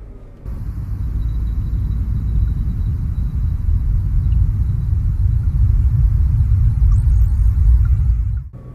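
A Nissan GT-R driving on the road, its engine a steady low rumble that builds slightly in loudness before cutting off abruptly at the end, heard up close with no talking.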